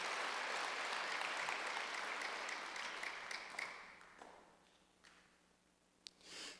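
A church congregation claps together, a moderate burst of applause that fades out over a few seconds, leaving a quiet room with a couple of faint knocks.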